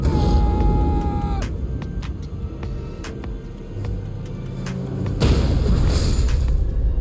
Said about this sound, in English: applying the war cry